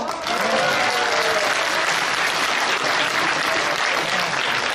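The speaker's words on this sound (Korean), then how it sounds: "그분한테 박수 한번 칩시다" A crowd at a testimony event on the 1980 Gwangju uprising applauds a veteran sergeant, a loud dense roar of clapping that starts abruptly and holds steady for several seconds, with scattered voices under it.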